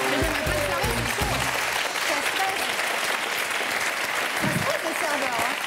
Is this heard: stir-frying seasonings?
no